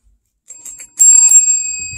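A bell rung by a dog on command: a couple of light taps, then one loud, bright strike that rings on and slowly fades, close and alone.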